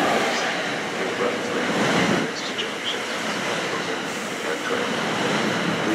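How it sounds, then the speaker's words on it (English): A New Jersey Transit train rolls into Metropark station with a steady, loud rushing rumble and wheel noise, while a station announcement and voices carry over it. "Now arriving on track 4 is the New Jersey Transit 431 airbound train to Trenton."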